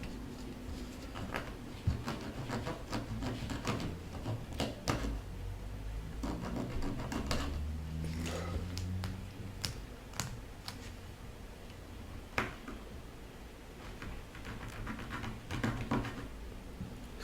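A kitchen knife cuts a lug off the soft plastic tyre of a toy train: faint, close clicks and small scraping ticks come at irregular intervals over a low, steady room hum, with no talking.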